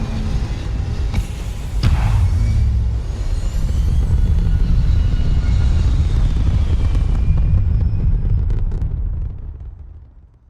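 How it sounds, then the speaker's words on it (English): A spaceship lifts off in the video game Starfield: a loud, steady low rumble of engine thrust swells in, holds for several seconds and then fades away at the end, with no talking. "Liftoff initiated, Captain. Time to venture into that beautiful sky."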